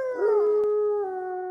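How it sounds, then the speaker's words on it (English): A dark, drawn-out wolf or werewolf-style howl used as a sound effect in a forest horror audio story, one long sustained tonal wail with a slight bend in pitch, loud and alone with no talk. "Then a dark howl came from the depths of the forest."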